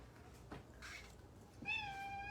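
A cat gives a couple of short meows close by, the last one drawn out and clear over quiet room noise.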